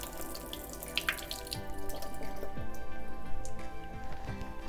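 Water from soaked almonds drains in a steady trickling, splashing flow as for homemade almond milk, close and continuous with faint drips and no talk.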